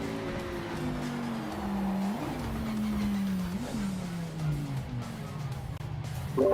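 A racing car engine in the video game Project Motor Racing drones and shifts pitch continuously, rising and falling as it revs, fairly close and loud throughout.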